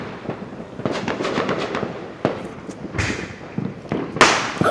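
Fireworks burst in a run of cracking pops and deeper thuds at some distance, with sharper crackles near the end, irregular and fairly loud.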